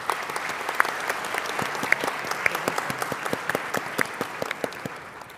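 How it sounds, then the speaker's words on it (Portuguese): Sustained audience applause at a university lecture hall event, a dense, steady patter of many hands clapping close by for about five seconds with no talk over it. "Uma salva de palmas."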